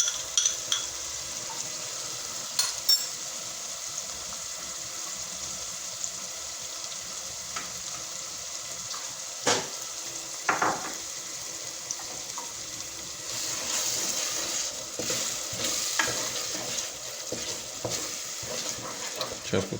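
Egg masala with finely chopped tomatoes fries in a pan, with a continuous close sizzle, intermittent stirring clatter and a few sharp utensil knocks that build toward the end.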